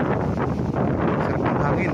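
Steady wind rushing across a farm lot in Majayjay, Laguna, a continuous broadband roar buffeting the microphone, loud and close with no pauses.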